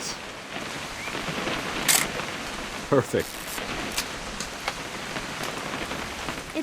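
Rain falling steadily in the video game What Remains of Edith Finch, an even hiss of drops, punctuated by a few sharp clicks like a camera shutter, with a brief spoken word over it.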